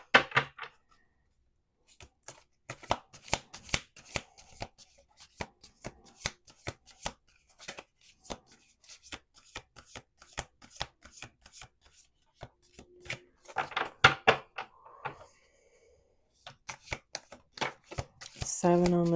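A deck of cards is riffle-shuffled over and over, bursts of quick crisp flutters broken by short pauses and soft handling taps.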